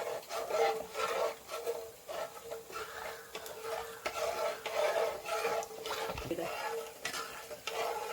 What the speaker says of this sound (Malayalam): നന്നായിട്ടൊന്ന് മിക്സ് ചെയ്യാം തിളയ്ക്കാൻ പാടില്ല കേട്ടോ തിളയ്ക്കാതെ നന്നായിട്ടൊന്ന് ഇളക്കണം